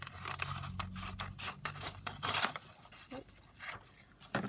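Scissors snip through flimsy, fragile vintage sheet music in a quick series of close, crisp cuts with soft paper rustles between them.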